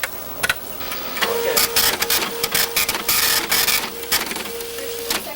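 A Fisher-Price toy dispatch computer from the Terrific Trips fire station makes a printing sound, a loud, close mechanical buzzing and rattling chatter that starts and stops in bursts over a few seconds.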